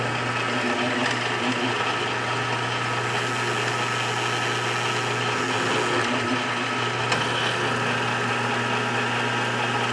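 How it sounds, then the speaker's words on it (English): A drill runs continuously close by with a steady motor whine and vibration while boring holes in metal to make leather stamps, holding an even level without pauses. "Now I need to find the right drill bit, drill the holes, and then we can tap that."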